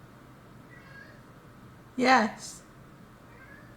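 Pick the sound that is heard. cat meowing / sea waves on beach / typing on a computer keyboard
cat meowing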